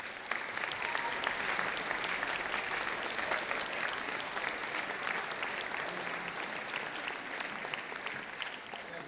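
Sustained audience applause at a high school band concert, a dense, even clapping from a large crowd that holds steady throughout before easing slightly at the end.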